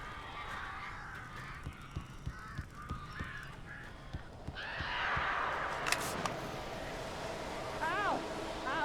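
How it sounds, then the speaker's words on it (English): Crows cawing inside a cabin in the video game Alan Wake Remastered, harsh calls scattered over a dark ambient game soundscape, with a brief voice and rising noise partway through. "These birds are weird."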